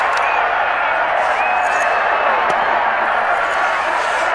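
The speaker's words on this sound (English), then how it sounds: "Look at the crowd going wild." Loud, steady roar of a crowd cheering at a Dirt 4 rally event, a dense wash of voices with faint whistles and whoops, continuous for several seconds.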